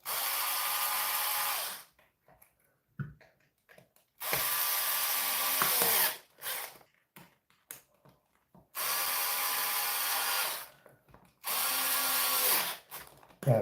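Power drill driving screws in bursts of a few seconds each, loud high whirring separated by short pauses with small clicks and handling noises.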